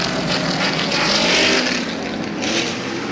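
Stadium Super Trucks roar around the Long Beach street circuit during practice and qualifying, a loud, dense engine drone that swells and fades as trucks close up on one another, with no talk over it.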